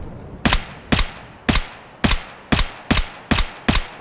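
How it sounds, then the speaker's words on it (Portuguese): Gunfire in the video game Escape From Tarkov: eight sharp, evenly spaced shots crack out over about four seconds, each loud and clear with a short decaying tail, with no talking. "Tô tomando tiro!"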